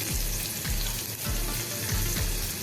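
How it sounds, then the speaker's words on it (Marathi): Mustard seeds crackle and spit in hot oil during tempering for a cauliflower vegetable dish, a dense steady sizzle with soft low thumps recurring about every half second, close and fairly loud with no voices. "मोहरी तडतडलेली आहे"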